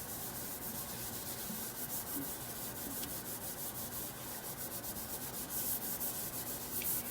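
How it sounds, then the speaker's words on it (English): A scrub pad works baking soda around a stainless steel kitchen sink, giving a continuous close gritty rubbing with rapid back-and-forth strokes at an even rhythm, no voices. "just with the scrub pad, you can just start scrubbing away"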